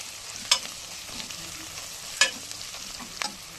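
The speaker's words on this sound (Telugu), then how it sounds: "ఇది వేగుతుంది ఇంత చాలు" Ginger garlic paste and mutton sizzle steadily in a pan, a soft continuous frying hiss broken by three sharp utensil knocks as the meat is stirred.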